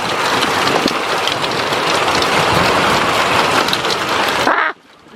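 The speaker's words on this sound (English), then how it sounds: "So there's definitely hail." Hail and heavy rain pound down during a severe, windy thunderstorm, a loud dense roar of impacts that holds steady before cutting off abruptly near the end.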